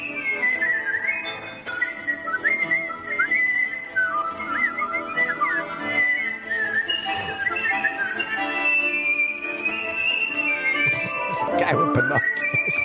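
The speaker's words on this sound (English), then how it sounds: "She's got good lungs for whistling" Person whistling a song melody, bright warbling tune carried steadily over several seconds with sliding notes, clear and fairly close, with some faint background noise and a burst of other sound near the end.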